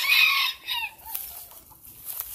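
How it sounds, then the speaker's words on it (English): An Old English Game rooster crows nearby outdoors, loud and strained at first and then trailing off into a long drawn-out ending, with faint yard noise after. "A little sneak peek at my game birds."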